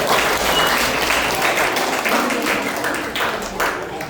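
Schoolchildren at a government school program clapping loudly together, a dense, sustained burst of applause from a close crowd lasting the whole stretch without a break.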